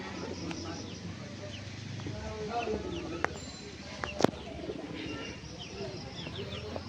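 Pigeon cooing softly and repeatedly in the dark, faint and somewhat distant, with other bird clucks and a low background murmur.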